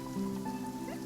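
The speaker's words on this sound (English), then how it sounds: "It's raining." Rain falls in the video game Genshin Impact, a soft, steady patter heard faintly beneath a sustained musical tone from the game's soundtrack.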